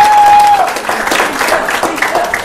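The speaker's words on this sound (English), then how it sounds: "Another round of applause for Brian Schilling" A crowd at a holiday networking event claps for a regional director, the applause fairly loud and close and lasting a couple of seconds, with a faint tone and voices mixed in.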